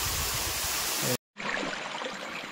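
Small waterfall in a forest stream at night, with low water flow, giving a steady, broadband rushing and gurgling close by, briefly cut out by a short gap of silence before resuming.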